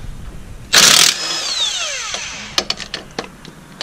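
A power tool, likely an impact gun, bursts loudly for a moment on a Jeep Wrangler JL's control arm bolts, then winds down, followed by several sharp metallic clicks and taps.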